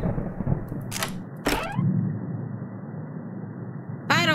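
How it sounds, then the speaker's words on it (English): Thunder rolls in the horror video game The Mortuary Assistant as a couple of short rumbling cracks, with a third burst near the end over a quiet, low ambient hum. "Ooh! Thunder!"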